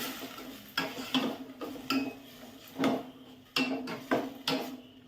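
Soaked sago stirred into carrots fried in ghee, heard as a series of distinct scraping and tapping strokes of a spoon against a pot, irregularly spaced and fairly close.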